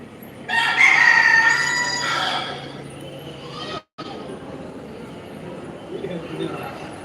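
A rooster released at the Kundrathur Murugan temple crows loudly and close by in one long, drawn-out call, followed by a quieter stretch of outdoor ambience with faint voices.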